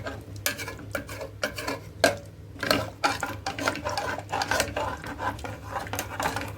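Kashmiri mutton kalia being stirred in a pot, likely a pressure cooker: a steady run of close scraping and clinking strokes of a spoon against metal, medium loud, with no voices.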